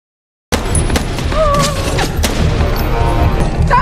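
Loud burst of gunfire from a shootout in an action film, dense cracks and booms starting abruptly after a half-second of silence and continuing as a sustained fusillade with a few brief voices mixed in.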